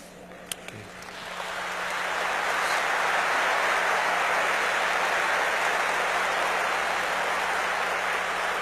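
A church congregation breaks into applause that swells from a few claps into sustained, dense clapping filling the room, holding steady to the end with no talk.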